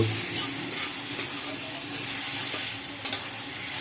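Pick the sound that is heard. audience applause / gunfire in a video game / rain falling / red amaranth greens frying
red amaranth greens frying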